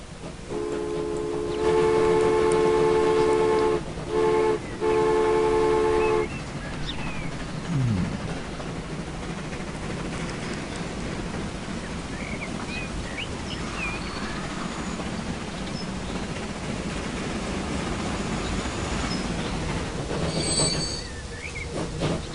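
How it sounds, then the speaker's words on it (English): A fuel train rolls along in Transport Fever, opening with a long tonal horn blast broken by brief gaps, then steady rumbling running noise with faint squeals and a short tonal burst near the end. "Let's follow the new fuel train for a few minutes."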